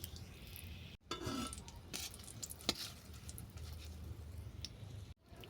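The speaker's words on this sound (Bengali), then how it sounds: "এবার এই তেলের মধ্যে দেবো লঙ্কা ফোড়ন, তেজপাতা ফোড়ন" Dried chili and bay leaf tempering in hot oil for a shiuli-leaf shukto, a soft steady sizzle and crackle with a few small pops and clinks, fairly quiet.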